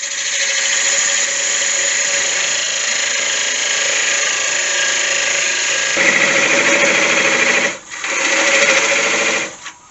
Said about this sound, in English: I'll go with my parting tool at a slight angle like that